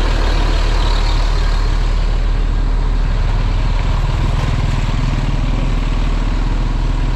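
A bus pulling in to park at a shelter, its loud, close diesel engine rumbling steadily and unbroken throughout, with no voices.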